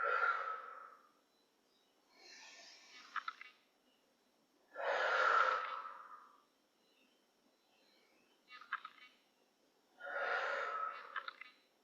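Slow, deep breaths during a yoga flow alternate between long airy inhales and softer exhales, close and unhurried, each lasting a couple of seconds with quiet gaps between.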